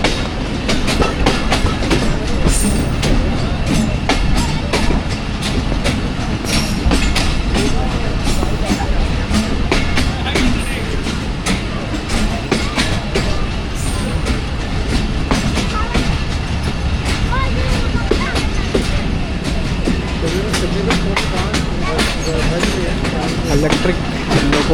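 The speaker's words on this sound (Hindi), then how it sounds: "गुजरात रेलवे स्टेशन पे अप्रोच बना रही है 14 टाउन अवाम एक्सप्रेस।" The 14-Up Awam Express, hauled by an electric locomotive, approaching Gujrat railway station in Pakistan: a loud, continuous rumble with rhythmic wheel clatter on the rails, steady throughout, with voices mixed in.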